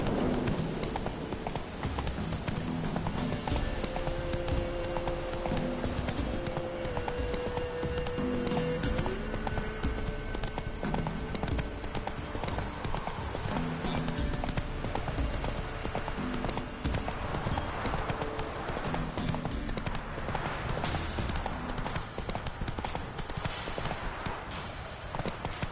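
Hooves of the horse Roach clip-clop in a steady galloping rhythm in The Witcher III video game, continuous and close for the whole stretch with faint background music underneath.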